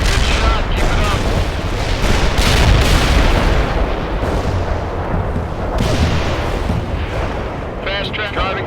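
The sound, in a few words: artillery shells striking in video game World in Conflict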